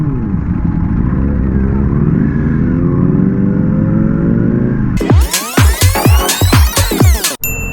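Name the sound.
Ducati Panigale V4S superbike riding on London city streets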